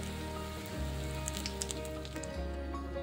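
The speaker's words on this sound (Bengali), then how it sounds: "তো আলুর বড়াগুলো ওই তেলের মধ্যেই দিয়ে দিয়েছি।" Potato fritters coated in gram flour batter fry in hot oil, giving a steady close crackling sizzle with scattered pops.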